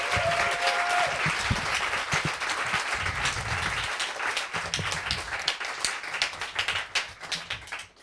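An audience applauding readers at an evening literary reading, dense clapping that runs for the whole stretch before thinning out at the end, with no speech over it.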